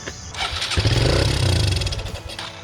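A Suzuki QuadRunner ATV engine, cleaned with carb cleaner, cranks and catches, then runs with a rough, loud, uneven chug close by for a couple of seconds.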